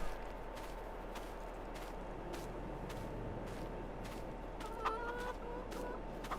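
Farmyard chickens in a farming game cluck softly against a steady droning background hum. Regular faint clicks tick through the scene, and a brief, clearer call rises near the end. There is no talking.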